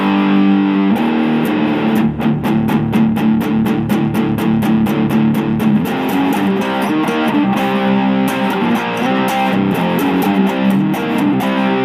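An electric guitar with distortion plays a riff, choppy rhythmic strums and sustained chords running steadily, loud and close with no talking.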